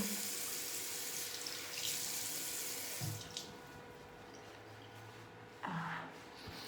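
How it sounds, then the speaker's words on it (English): Tap water runs into a bathroom sink while a face is rinsed: a soft, steady stream with a few brief splashes and interruptions as hands pass through the flow. "just give that a quick rinse"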